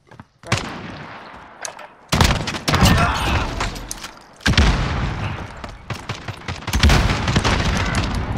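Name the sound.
gunfire from Call of Duty video game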